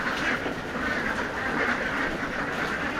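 A flock of ready-to-lay ducks kept for sale quack continuously in a dense, loud chorus, with many overlapping calls forming a steady wall of sound.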